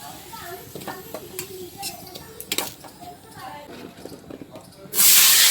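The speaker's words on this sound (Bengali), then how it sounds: "পটলটাও ভেজে নিচ্ছি" Pointed gourd frying in hot oil for a home-style cooking session, a busy crackling sizzle with clinks of a utensil and a voice talking over it, ending in a sudden loud hiss.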